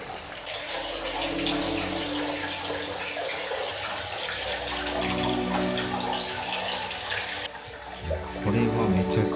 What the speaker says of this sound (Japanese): 川の音と鳥の鳴き声が聞こえてきます。